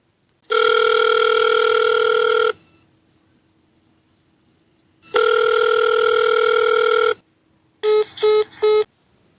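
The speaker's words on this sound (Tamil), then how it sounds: "பேசாமல் இன்னொரு தடவை கூப்பிட்டு பார்ப்போம்" A Tamil household's phone call goes unanswered: two long, steady ringback tones about two seconds each with a pause between, then a quick burst of short beeps at the end, clear with no voices.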